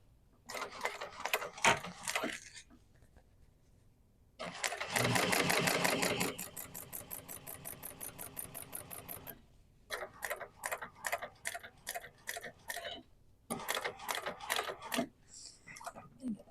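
A sewing machine top stitching a duffel bag close to its hardware with a left zipper foot, running in rapid mechanical bursts separated by short pauses, some runs faster and denser than others.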